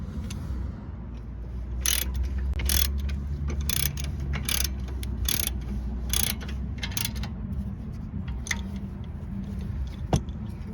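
A bolt is tightened with a ratchet while replacing the rear brakes on a BMW E46, giving a series of sharp, irregular ratcheting clicks over a steady low background hum, close by, with no talking.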